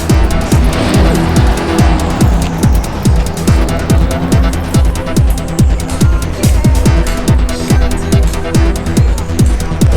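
Fast cars arriving at a wet, rainy car show make a loud, close, steadily pulsing engine sound that runs throughout with no talk.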